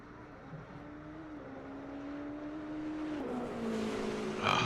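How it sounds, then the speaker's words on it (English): Engine drone of a race car in a video game holds steady, then another engine rises and revs louder near the end as it sweeps past the pits. "Nothing worse than hearing cars go by when you're in the pits."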